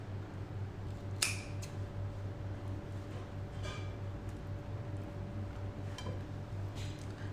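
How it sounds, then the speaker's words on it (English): Crisp snips as a knife or scissors trims the tough ribs from cabbage leaves, a few sharp isolated cuts spread over steady low background hum, close and fairly quiet. "So now in each of these leaves we will cut off these ribs so that it is easy to fold them."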